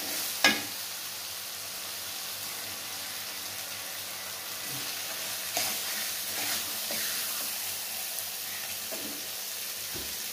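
Lemongrass, garlic and leaves sizzle loudly in a hot pan, a dense, steady frying hiss with occasional stirring knocks and pops, close and continuous.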